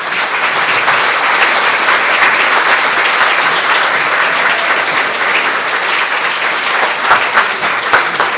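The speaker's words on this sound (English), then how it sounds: "Another round of applause for Kate." Sustained, loud applause from a luncheon audience for a speaker, dense steady clapping filling the room without a break.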